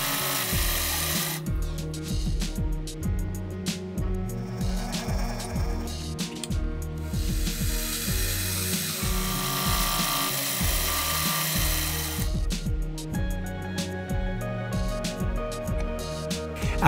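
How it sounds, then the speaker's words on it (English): A milling machine cuts shallow notches into a brass-like part for a wheel mechanism, producing a close, steady whine with rhythmic chattering as the cutter works, pausing briefly midway before resuming. "Back to the mill and I formed the shallow notches, aiming for a snug fit with the opposing parts."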